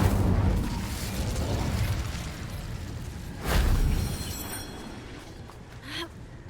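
Fire spell cast in Hogwarts Legacy: a short whooshing burst with a low boom in the middle of the clip, over a rumbling game ambience, followed by a fainter pop near the end.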